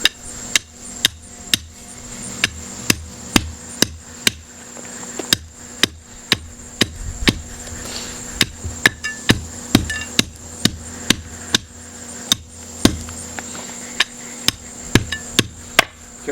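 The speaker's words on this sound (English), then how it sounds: "I'm going to tamp it in using the tamper" Patio bricks are tamped down with a hand tamper for a boat storage pad, about thirty sharp, hard thuds in a fairly steady rhythm, close by and alone.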